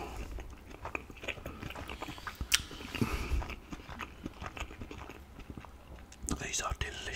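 Southern fried chicken mini fillets eaten up close, with crunchy bites and soft chewing under quiet, whispery talk.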